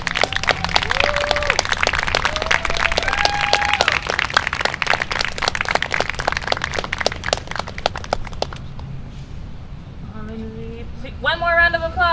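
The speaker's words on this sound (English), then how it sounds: "One more round of applause." An audience at a campus rally claps in a crisp, rapid patter. Voices and whoops rise through the clapping before it thins out and stops, and then a single voice speaks.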